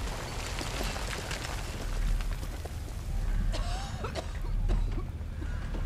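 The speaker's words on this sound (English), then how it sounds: "Was not expecting that explosion." A loud explosion from an episode of The Last of Us, heard as broadband booming rumble with swelling surges, cracking debris and crackling noise that fills the whole stretch.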